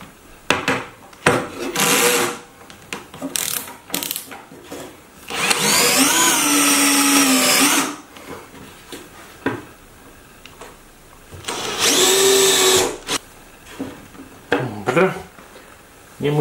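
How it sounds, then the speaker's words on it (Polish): A cordless drill-driver screws plastic onto sheet metal in a DIY workshop, whirring loudly in two long bursts amid handling knocks and rattles, with talk between the bursts. "Chyba będzie lepsza wkrętarka."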